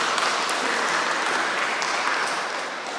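A church congregation applauds steadily for the whole stretch, a dense, continuous clapping from many hands that stays loud before easing off slightly at the end.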